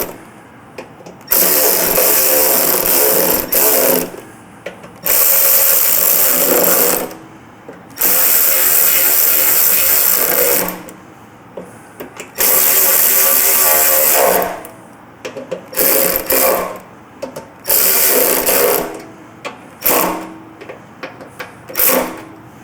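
A power tool runs in motorcycle tank bolts on a Softail tank install, whirring in five loud bursts of a few seconds each, separated by short pauses, close up with no talk.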